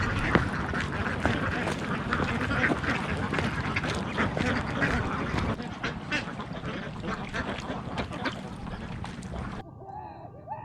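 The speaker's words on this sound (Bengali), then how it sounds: "এখানে বেশ কিছু হাঁস দেখতে পাচ্ছি হাঁসগুলো একটু দেখাই" Many ducks quacking in a busy, overlapping chorus nearby, continuing steadily with some background noise.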